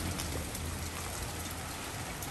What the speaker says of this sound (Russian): Дождь уже ослаб, но все равно он достаточно сильный.